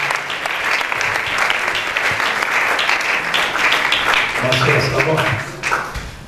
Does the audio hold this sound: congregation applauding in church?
yes